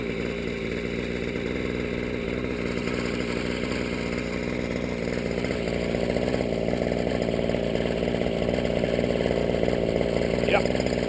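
A nitro or gas RC helicopter engine fitted with a muffler and carburetor air filter runs steadily at idle, a loud continuous buzzing drone close by that rises slightly toward the end.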